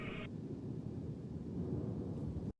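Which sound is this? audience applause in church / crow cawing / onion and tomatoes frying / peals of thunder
peals of thunder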